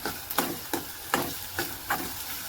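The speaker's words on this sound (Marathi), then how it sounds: "आणि सोबत जायत आता अद्रक लसूणची पेस्ट आणि आता मिक्स करून घेऊया" Onion with ginger-garlic paste is stirred in a pan on the stove, a soft sizzle broken by five evenly spaced scraping strokes of a spoon against the pan, close and fairly quiet.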